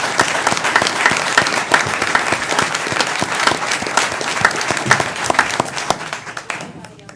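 An audience at a city council meeting breaks into a long round of applause, dense and continuous with some voices mixed in, before it tapers off near the end.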